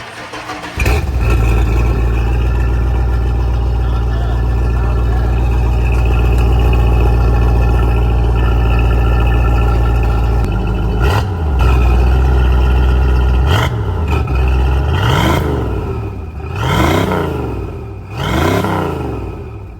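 A Dodge Dakota truck with a new side pipe exhaust starts and idles with a loud, deep rumble, then revs several times in rising and falling bursts, close and alone.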